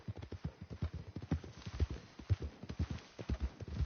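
Horse hooves clip-clop at a steady walking rhythm on the ground in the Red Dead Redemption 2 video game, quiet and fairly close, alone without talk.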